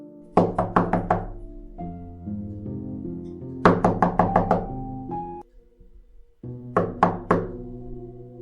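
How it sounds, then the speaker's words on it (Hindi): A door takes heavy, rapid knocking in three separate volleys of about four or five raps each, loud and close, with a low sustained tone lingering between the bursts. "लेकिन फिर अचानक दरवाजे पर जोर से दस्तक हुई।"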